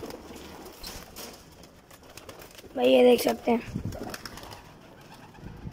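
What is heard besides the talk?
pigeons cooing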